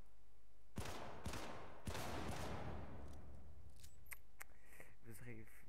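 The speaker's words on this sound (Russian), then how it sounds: "Взрыв." Explosions in the video game Syndicate burst out as several sharp, loud blasts in quick succession, each decaying into a rumbling tail, followed by faint electronic beeps.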